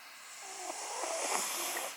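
A pet dog snores close by, one drawn-out, hissing, wheezy breath that swells and then fades, with no talking.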